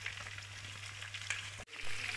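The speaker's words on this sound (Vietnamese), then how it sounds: "Gà chiên mắm nha." Free-range chicken frying in fish sauce in a pan gives a soft, steady sizzle close by, quiet throughout with a brief dip near the end.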